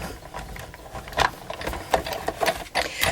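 A Big Shot die-cutting and embossing machine is cranked by hand, pressing a cutting mat with cardstock through its rollers, producing a series of quiet mechanical clicks and grinding whirs close by, with no talking.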